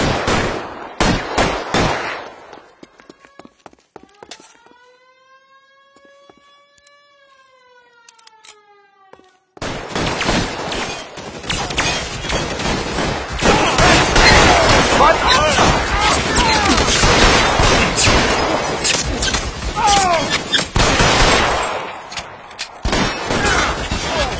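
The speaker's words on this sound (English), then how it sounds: "Lay down some covering fire!" Dense covering gunfire in L.A. Noire, with bursts of shots at the start, a quieter stretch carrying a rising and falling siren, then a long loud barrage of rapid shots and clatter with voices mixed in.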